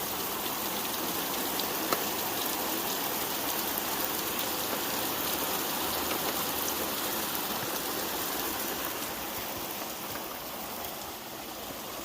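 Heavy rain pouring down steadily, a dense continuous hiss of drops drumming on surfaces close by, with water running and no voices.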